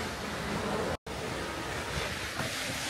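Hongjecheon waterfall in Seoul, a steady broad rush of falling water heard outdoors, loud and continuous apart from a momentary dropout.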